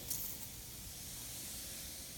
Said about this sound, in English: You can spray the whole article real good with the Febreze.